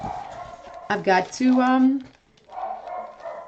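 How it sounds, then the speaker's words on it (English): A pet puppy barking indoors, a few sharp close barks in quick succession mixed with someone talking over them. "all of a sudden the dog is just barking like crazy"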